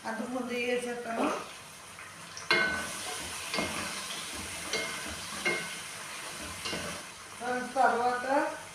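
Potato and carrot pieces for chicken curry frying in a pan, with a soft sizzle under repeated scraping stirs. A voice talks briefly at the start and again near the end.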